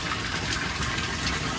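Pumped water gushes into a koi grow-on tank, a loud, dense and steady rushing flow with no pauses and no voices.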